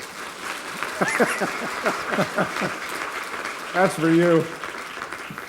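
An audience in Taiwan applauds a speaker on stage, with clapping spread underneath as someone talks over it and a brief sung or drawn-out vocal phrase rises near the end.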